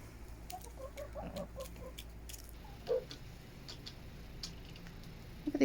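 Chickens in a winter coop on an off-grid homestead, among them molting hens and two big white birds, cluck softly and sporadically at a distance with light pattering and scratching.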